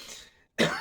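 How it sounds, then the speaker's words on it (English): Two dry, harsh coughs from an old man's chronic dry cough, close by, separated by a short silent pause. "But this chronic cough, it's a dry cough"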